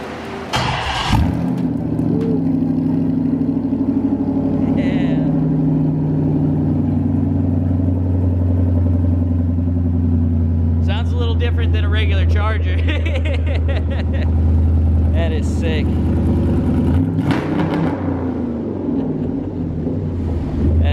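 A HEMI V8 fitted in a VW Beetle cranks and fires, then settles into a loud, deep rumbling idle nearby, broken by several sharp, throaty revs before it drops back to idle.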